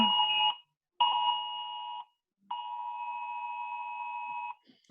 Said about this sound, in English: That's a notification.